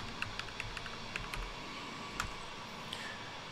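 Keys tapped on a computer keyboard while entering a password during Windows 11 setup, soft scattered clicks in an irregular rhythm over a quiet hum, fairly faint.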